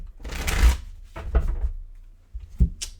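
Tarot cards are shuffled in a few quick riffling bursts, close and crisp, with short pauses between them.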